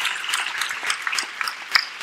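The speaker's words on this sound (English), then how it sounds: "let's give Shivangi a big round of applause" Applause from an audience at a corporate talk, a short burst of clapping with scattered sharp claps standing out, moderately close and filling the clip.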